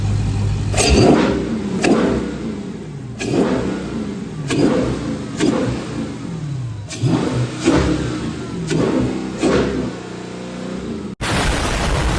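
A Dodge 392 Scat Pack V8 with a loud aftermarket intake is revved hard toward redline again and again, each sharp surge of engine roar falling back before the next. It sounds close and loud, with no talking.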